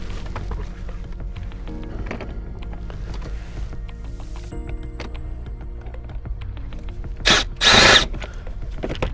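A power drill removing screws inside a 2019 Kia Sportage whirs in a couple of short close bursts, surrounded by steady mechanical hum and small clicks and rattles.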